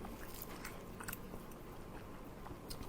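Someone eats beef bhuna khichuri with cucumber and crushed dried chili, with soft close chewing and occasional crisp bites over a steady low background, and no talking.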